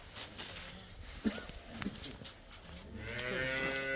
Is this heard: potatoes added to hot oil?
no